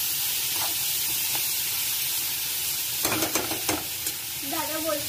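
Tomatoes fry in a pan for a popcorn vegetable dish, a steady close sizzle and hiss broken by a few brief stirring scrapes near the end, with no talking.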